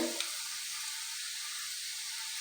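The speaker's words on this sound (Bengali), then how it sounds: "চিকেন ললিপপগুলো তেলের মধ্যে দিয়ে দেবো একটা একটা করে" Chicken lollipops frying one by one in oil over a medium flame, giving a steady, soft, even sizzle throughout with a brief louder crackle at the start as a piece goes in.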